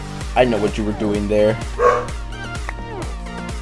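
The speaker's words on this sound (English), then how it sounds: "My dogs are starting to bark and you guys can probably hear that in the background." Dogs barking nearby in a home, several sharp yips and bow-wows in quick bursts mixed with whining tones, while someone talks over them.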